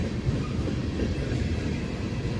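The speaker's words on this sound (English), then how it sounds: "And this train is going slow" An Amtrak train rolls slowly through Depew station, a steady low rumble of wheels and cars that is close and continuous throughout, with no voices.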